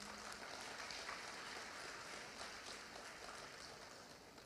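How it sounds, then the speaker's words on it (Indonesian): Faint, steady applause from an audience at a cooperative's annual members' meeting, a soft continuous patter of many hands that holds for several seconds and thins slightly toward the end. "Boleh tepuk tangan ini."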